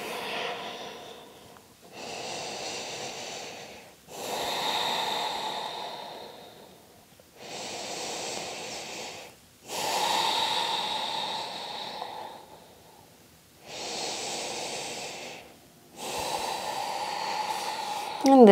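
Slow, deep breaths during a restorative yoga stretch, each inhale and exhale a soft airy rush lasting a couple of seconds with short quiet gaps between them, close and calm, with no talk.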